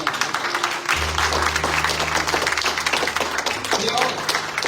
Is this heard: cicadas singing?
no